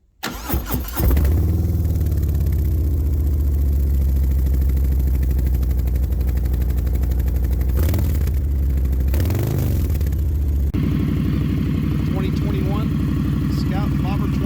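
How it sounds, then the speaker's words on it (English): An Indian Scout Bobber motorcycle engine cranks and fires up, then settles into a loud, steady rumble with a couple of throttle swells before pulling away into a higher-pitched riding drone. "So let's go take a ride on the Scout."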